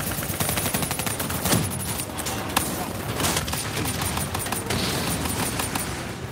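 Rapid gunfire rattles almost continuously in a battle in the video game Call of Duty: Black Ops 3, with sharp bursts and a few heavier booms, loud and close.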